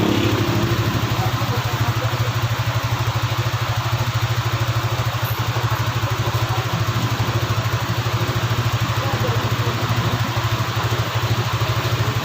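A motorcycle engine idles steadily after its first start following its first oil change at a motor shop in Lucban, a close, loud, even chugging rumble that holds throughout with no talk over it.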